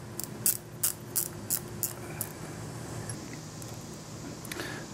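A ratchet wrench loosening the carburetor bowl nut on a Briggs & Stratton 6.5 HP lawn mower, giving a series of quick metallic clicks in an uneven rhythm, close and quiet, then stopping.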